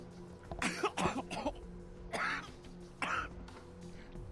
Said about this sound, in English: Sounds like a nasty cough you got there